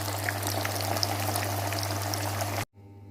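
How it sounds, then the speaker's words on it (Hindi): Pieces of masala fish frying in hot oil, a dense steady crackling sizzle up close with a constant low hum, cutting off abruptly near the end. "सारे पीस तलाई कर लेंगे।"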